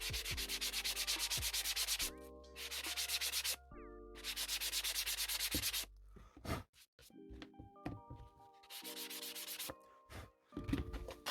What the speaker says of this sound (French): Un petit ponçage.